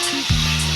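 Pork fat frying in a pan until crispy, a dense close sizzle running continuously with a brief stirring shift partway through.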